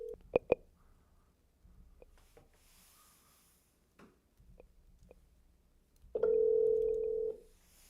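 A steady electronic telephone ring tone sounds once near the end, loud and close, after a stretch of faint clicks and quiet handling noise, as a call goes to an AI receptionist.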